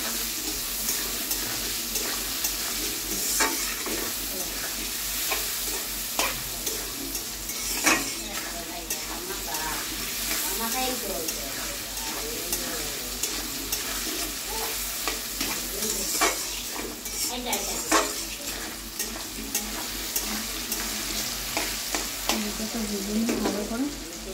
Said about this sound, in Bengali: একটু হলুদ গুঁড়ো, একটু নুন দিয়ে আলুটাকে ভালো করে নেড়ে ভেজে নেব হালকা করে